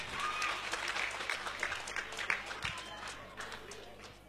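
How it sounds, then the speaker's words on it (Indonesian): An audience at a competition awards ceremony claps for the third-place winner, a sustained, moderately distant patter of many hands with a few louder claps, and voices faintly beneath it. "Sekali lagi boleh minta tepuk tangan untuk juara ketiga kita"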